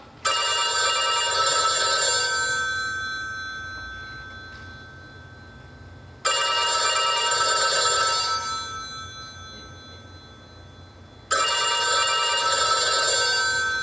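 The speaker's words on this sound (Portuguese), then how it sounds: "É o telefone da sua mesa. Não vai atender?" A desk telephone rings on stage during a theatre production of Kafka's The Trial, three loud sustained bursts of electric bell ringing with short quiet gaps between them and no talk.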